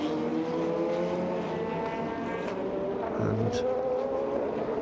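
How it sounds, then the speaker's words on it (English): Race cars in the Asian Le Mans Series at Sepang roar past side by side, a dense sustained engine drone with shifting whine, continuous and loud, with a brief word of commentary. "Racing Team Turkey side by side with United Autosports McLaren this time."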